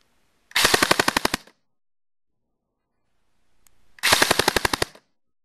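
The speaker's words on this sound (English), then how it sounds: "Now we're going to test rate of fire with the included battery." Two bursts of full-auto fire from an Echo 1 ASC Heavy airsoft carbine on its included battery, each about a second of rapid, evenly spaced mechanical clicks, separated by silence and a faint handling noise.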